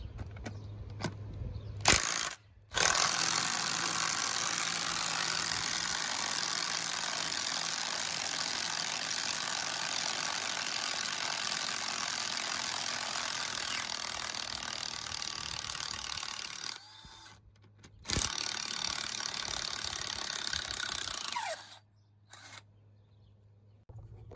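A Ryobi P261 cordless impact driver runs in reverse, hammering in a loud, continuous rapid rattle that lasts many seconds, stops, starts again briefly and then cuts off.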